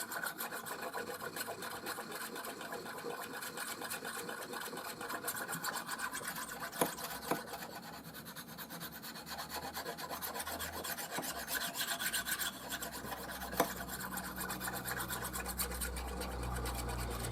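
Steak knife blade rasping steadily against a banded jasper whetstone, continuous close scraping strokes with a couple of sharper clicks, alone with no talk.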